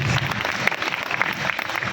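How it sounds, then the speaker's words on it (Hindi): Audience clapping during a Buddhist dharma sermon, a steady patter of many hands spread through the whole stretch, moderately loud, with a voice faintly mixed in underneath. "अब जो ताली बजा रहे हैं"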